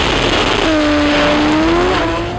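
A drag racing car makes a qualifying pass, heard as a loud, continuous roar with a rising and falling tonal whine that sweeps across the short run, no voices present.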